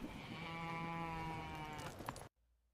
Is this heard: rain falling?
no